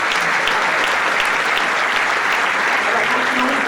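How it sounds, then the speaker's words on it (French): Loud, dense applause from a festival opening-ceremony audience honoring a volunteer, continuous and even throughout without letting up. "On peut l'applaudir très fort."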